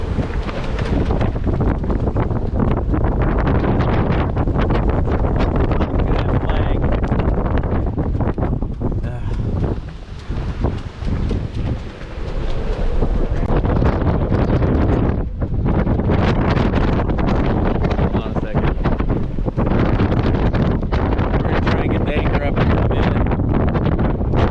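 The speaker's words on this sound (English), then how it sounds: "Just a squall!" Strong squall wind buffets an anchored sailboat off the Channel Islands, a loud continuous roar of gusts and rigging noise across the whole stretch, easing briefly midway before building again, with voices faintly under it.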